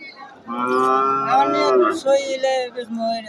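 A cow on a small cattle farm gives a loud, close, drawn-out moo, followed by a shorter, wavering second call.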